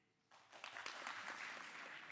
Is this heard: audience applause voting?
yes